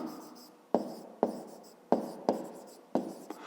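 Chalk or pen strokes on a board during a fifth-grade math lesson, a run of sharp scratchy writing bursts, each starting with a tap and trailing off, close and alone with no talk.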